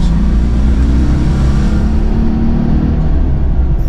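A 1983 Citroen Acadiane van's small engine drones steadily while driving, a loud, close, continuous low rumble with road noise and no voices.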